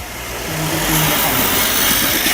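A radio-controlled Re-R Hybrid drift car runs at full throttle on a track, its small electric motor giving a steady, buzzing whine that rises slightly and holds, fairly close, with no talk.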